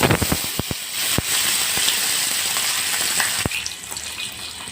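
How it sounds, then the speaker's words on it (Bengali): A katla fish piece dropped into hot oil, giving a steady broadband sizzle of frying throughout, with a few sharp crackling pops near the start and another around the middle, close and fairly loud, with no talk. "আমি এখন এর মধ্যে মাছের পিসটা দিয়ে দেব"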